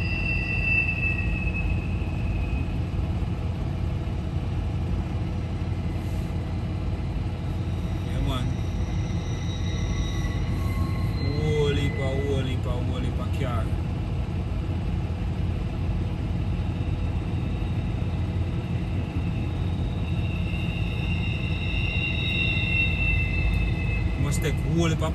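A heavy container freight train rumbles past steadily, low and continuous, with occasional metallic squeals and clanks from the wheels over a long stretch.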